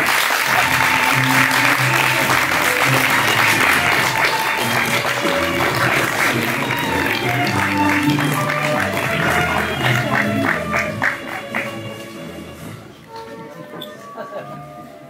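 Audience applause at a student theatre festival performance, sustained dense clapping from a full room that stays strong for about eleven seconds, then thins out and fades near the end.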